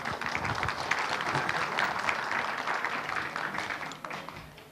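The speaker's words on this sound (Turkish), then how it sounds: "Kuvvetli bir alkış alabilir miyim şöyle?" Sustained applause from an audience at a village folk-music gathering, dense and steady across the whole stretch, fading slightly toward the end.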